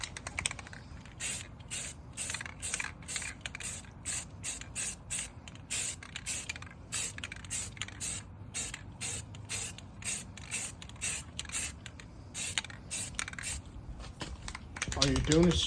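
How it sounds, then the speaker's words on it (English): Aerosol spray paint hisses in repeated short bursts, a steady rhythm of quick sprays, while a first coat goes onto used car rims for a C6 Corvette, with a low background rumble throughout. "I want to do 3 coats. First coat does not have to be perfect."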